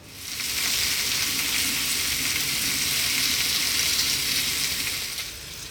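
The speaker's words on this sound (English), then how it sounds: "Just gonna cook the bacon and the sausages, then we'll get on with this little lovely sandwich." Bacon and sausages frying in a pan make a steady, loud sizzle that holds evenly throughout with no talking.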